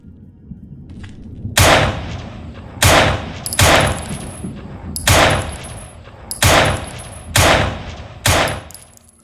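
A string of seven loud, sharp outdoor gunshots from a 3D FPS game, spaced about a second apart, each followed by a long, rolling echo tail that fades before the next blast.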